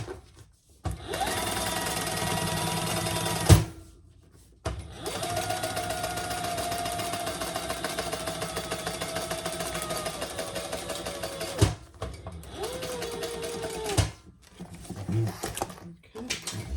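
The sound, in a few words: sewing machine top stitching a bag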